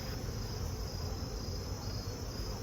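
A faint, continuous buzzing drone of honeybees left inside a nuc box during overwintering, steady and even throughout with no voices.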